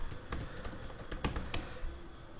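A computer keyboard being typed on to enter a git command in a terminal, quick, close, moderately quiet clicking keystrokes in an uneven rhythm with short pauses between them.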